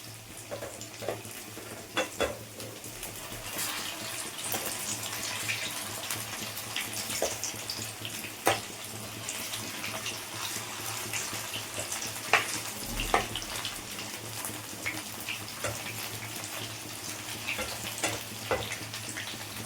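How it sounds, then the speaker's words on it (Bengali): Flattened rice (chira) pakoras fry in hot oil, giving a steady, fairly quiet sizzle with a soft constant bubbling hiss and occasional faint clinks and stirring knocks, with no talking. "ঠিক এইভাবেই লাল লাল করে ভেজে নিতে হবে"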